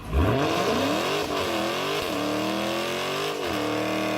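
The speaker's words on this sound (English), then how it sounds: "and then he peels out" A car peels out, its engine revving loudly and climbing in pitch with rising gear sweeps, close and continuous for the whole stretch.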